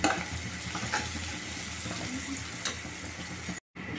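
Pasta sizzles and fries in a pan with turmeric while being stirred, a steady close crackle with a few scraping strokes, then a brief dropout near the end.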